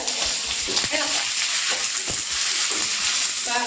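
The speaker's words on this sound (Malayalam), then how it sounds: "ഇഞ്ചി പച്ചമുളക് വെളുത്തുള്ളി സവാള ജസ്റ്റ് ഒന്നിട്ട്" Ginger, green chili, garlic and onion fry in a pan for chicken perattu, a steady close sizzle broken by repeated scraping stirs of a spoon, with faint voice fragments in the background.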